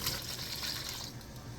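Melted butter and egg poured into a cinnamon roll dough mixture in a bowl, a soft continuous liquid trickle and splash lasting under two seconds, steady and close.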